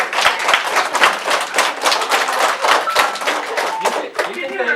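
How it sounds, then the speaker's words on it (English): A classroom of children claps for a visiting grandpa, Mr. Shelton, in loud, close, slightly uneven applause that keeps going, with a voice briefly heard near the end. "I think he deserves a round of applause."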